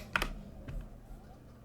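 A few quick computer keyboard keystrokes click close by and fairly quietly during PC play of Man O' War Corsair, a naval battle game, then fade into a soft room hum.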